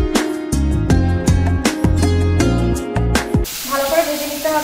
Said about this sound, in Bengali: এবার এই তেলেই ফোড়ন দিয়ে দেবো শুকনো লঙ্কা আর দিলাম সামান্য পাঁচ ফোড়ন এখানে পেঁয়াজ টমেটো কাঁচা লঙ্কা মিশিয়ে দিয়ে দিই